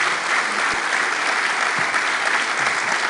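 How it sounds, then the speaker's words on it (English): An audience gives sustained, dense applause for a foreign minister at a formal peace dialogue event in Rome, a steady wash of clapping throughout. "Please join me in a round of applause for the Minister and for Lina."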